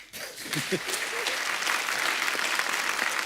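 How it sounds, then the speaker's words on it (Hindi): Studio audience applause on a television comedy talk show builds quickly after a brief start, swelling into sustained, crowded clapping that holds steady and loud to the end. "एक बार रणबीर कपूर के लिए जोरदार तालियां हो जाए।"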